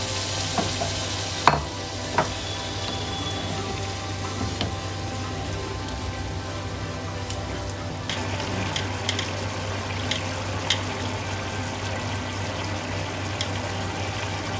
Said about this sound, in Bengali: এবারে একটু উষ্ণ জল দিয়ে বয়েল করে নেব।